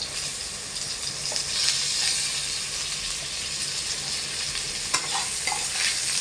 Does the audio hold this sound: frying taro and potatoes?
yes